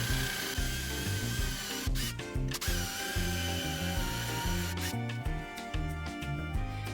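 A power drill with an 8 mm bit bores holes into a wooden frame for a DIY sliding door, with whirring bursts that start and stop. Several strong grinding surges rise over a steady background tone.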